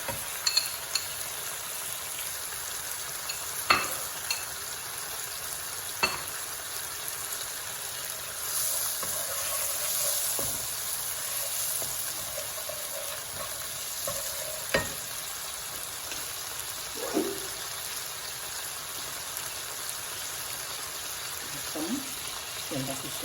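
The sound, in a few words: cooking with spices and a little water in a pan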